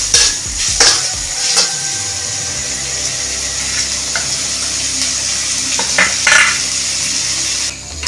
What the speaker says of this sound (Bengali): লঙ্কাটা তেলে নেড়ে নিয়ে এবার দিয়ে দিব পেঁয়াজ কুচি। এবার সবগুলোকে ভেজে নিব।